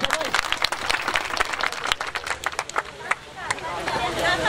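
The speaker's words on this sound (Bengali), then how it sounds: "সবাই ভাইয়ের জন্য একটা তালি দাও সবাই" An audience claps in a burst of scattered, uneven applause at an indoor gathering, fairly close, with voices chattering underneath.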